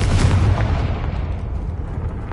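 The Confringo blasting spell in the Hogwarts Legacy video game sets off a loud, close explosion: a heavy boom at the start that rolls and fades over about two seconds, alone without speech.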